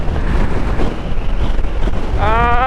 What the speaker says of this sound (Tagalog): Ay, napakalakas na hangin.